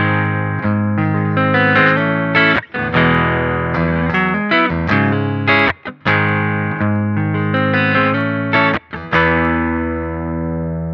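A humbucker-equipped Strat on its neck pickup plays chorded riffs through a Boss Katana amp on a clean patch with slight bite, loud and close, strummed in bursts with brief gaps between phrases.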